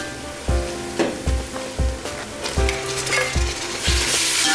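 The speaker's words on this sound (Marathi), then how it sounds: "तर आता एक वाटी काजू घालूया बाजू भाजून झाले की टोमॅटो घालायचे" Cashews frying in oil in a pan while making vegetable biryani, a steady close sizzle with a few louder bursts and stirring scrapes repeating about every three-quarters of a second, no voices.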